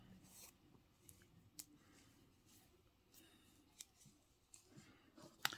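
Scissors snipping white yarn during a crochet project, giving a few faint, sharp clicks spread across a quiet moment with little else audible.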